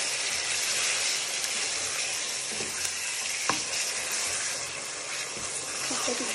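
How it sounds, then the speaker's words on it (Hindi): Chunks of gosht meat fry in a pan with browned onions, giving a constant soft sizzle and hiss with a few light stirring knocks, moderately quiet and without speech. "अब इसमें हम डाल देंगे ये गोश्त। गोश्त को आपने अच्छे से फ्राई करना है।"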